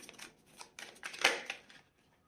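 Tarot cards riffled and drawn from a deck during a French reading, a few quick papery shuffling bursts with one sharp snap near the middle, close and fairly quiet.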